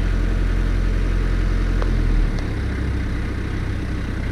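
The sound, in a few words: engine of articulated-arm lift revving up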